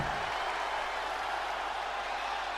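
A wrestling arena crowd in the WWE 2K20 video game roars and cheers in a steady, dense wash of noise that holds at even volume throughout, with faint applause mixed in.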